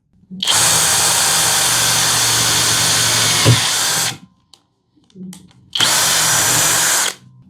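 A Hanabi LJ-2023 cordless drill with 140 N torque runs at high speed, giving two loud, steady whirring bursts: one lasts about four seconds, then a brief pause, then a shorter second run.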